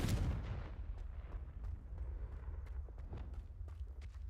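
A fiery Confringo spell blasts out in Hogwarts Legacy, a booming burst at the start followed by a low rumbling roar with scattered crackles and thuds fading over several seconds, with no talking.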